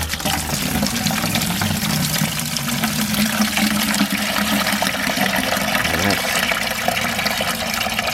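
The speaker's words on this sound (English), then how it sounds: "I'm gonna get a bucket and I'll get the gray water out of there." Gray tank water from a Forest River Geo Pro RV gushes out into a bucket, a steady close rushing splash that continues throughout, with a voice talking partway through.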